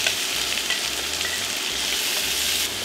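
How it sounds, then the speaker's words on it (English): Diced leeks sizzle in melted butter and garlic in a stock pot, giving a steady, close, dense crackle that holds evenly throughout with no voices. "And next, add your 5 cups of cleaned and diced leeks."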